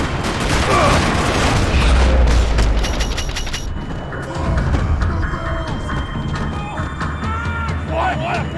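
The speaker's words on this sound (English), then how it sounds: "Another parking lot rattling with gunfire." Video game gunfire rattles across a parking lot, with loud booming bursts and crashing impacts throughout, mixed with dense action noise.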